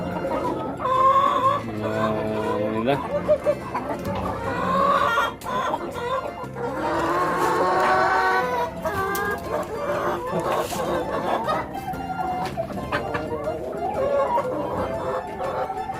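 Broiler and Rhode Island Red chickens cluck on a farm, a busy layered chorus of close hen clucks and squawks with a rooster crowing among them, continuing throughout without pause.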